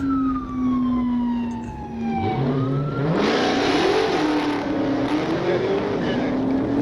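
A widebody Dodge Hellcat's engine revs and rises in pitch before surging loudly through acceleration, heard up close with a sweeping siren-like tone earlier and road noise throughout.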